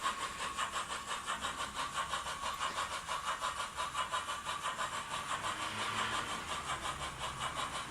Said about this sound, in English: any volume changes are the chip's own doing, the dynamic exhaust system on there